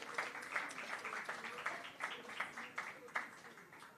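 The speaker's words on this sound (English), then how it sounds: "A final big round of applause." Audience at a Craft & Coffee event held by the Ministry of Industry, Investment & Commerce, giving a final round of applause, heard as a thin, faint patter of individual claps with sharp separate peaks rather than a full roar.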